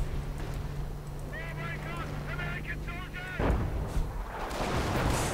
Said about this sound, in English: British making an advance under support from artillery